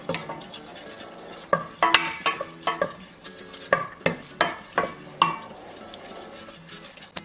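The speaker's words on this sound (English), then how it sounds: "so just keep stirring" Flour roux being stirred in a pot for a cheesy potato bake, a spoon scraping and clinking against the pot in an uneven series of sharp knocks over a soft sizzle, close and without talk.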